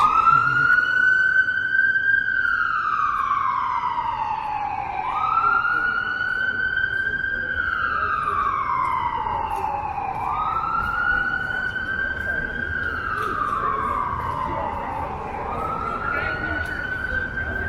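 An ambulance siren wails, sweeping up and down in long repeating cycles, loud and steady over low traffic rumble on a car-free Yonge Street in Toronto.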